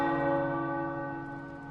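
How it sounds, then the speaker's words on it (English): Church tower bells ring in Marvel's Midnight Suns video game, a single resonant bell strike with rich sustained overtones slowly fading, heard alone. "The tower bells are ringing."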